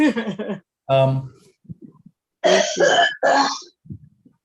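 Several harsh coughs and throat clearings come in bursts, close to the microphone, separated by brief silences.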